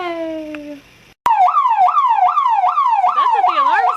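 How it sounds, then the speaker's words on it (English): A building alarm system sounds loud and close, a fast repeating rising-and-falling electronic wail cycling steadily after a brief tone and a sharp click. "That's what the alarm sounds like."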